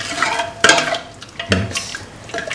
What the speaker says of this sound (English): Mix the sugar thoroughly into the coconut milk and the other ingredients.